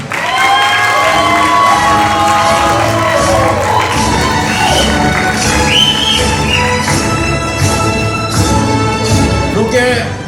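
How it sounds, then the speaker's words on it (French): Crowd cheering and applause at a graduation ceremony for a Bible theology institute, loud and continuous for about ten seconds, with tonal voices or music running through the din. "applaudissez une fois de plus pour nous"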